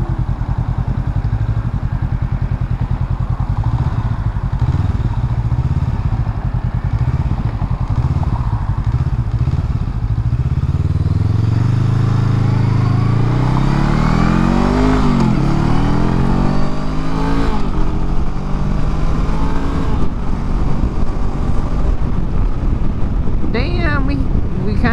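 A Honda Rebel 500 motorcycle accelerates hard through its gears on a freeway, the engine note climbing and dropping with each shift over steady wind roar, loud and close throughout.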